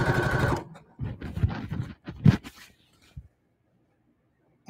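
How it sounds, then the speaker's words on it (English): A sewing machine backstitches a pillowcase seam in several short, close bursts of stitching before falling silent. "So I always backstitch a little."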